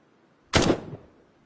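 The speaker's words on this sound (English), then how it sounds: "Take, for example, the sound of a gunshot, which the original sound is less than half a second long." A single gunshot sound effect lands sharply after a quiet moment, a loud broadband crack with a short ringing tail that fades within half a second.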